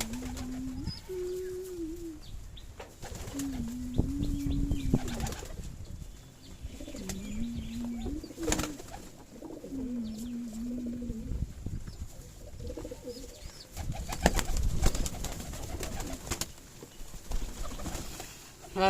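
Girbaz tumbler pigeons at a pigeon farm in Shibganj, Sonamasjid, coo in repeated low, rolling phrases close by, with softer chirps, shuffling and wing flutters around them.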